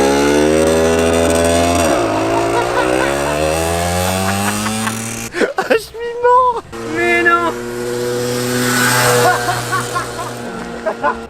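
A 50cc motorcycle's two-stroke engine revs hard with a high, buzzing whine that rises and falls, drops briefly, then climbs again, loud and close, with people talking over it.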